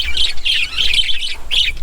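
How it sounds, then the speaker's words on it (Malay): Colourful birds at a forest campsite give loud, close bursts of high chirping, several short tweeting phrases repeating over about two seconds. "Ada burung warna-warni."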